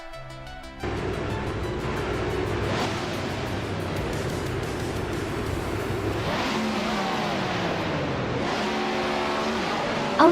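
Race cars roaring off the line at the Grand Valley Speedway short track in a racing video game, a dense continuous engine drone with rising revs and a couple of swelling passes, loud and steady throughout.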